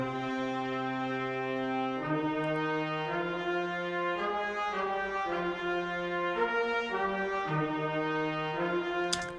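Spitfire FX Brass and Woodwinds brass section playing a sustained theme of held chords that change every second or so, rich and steady at moderate volume, alone with no talk.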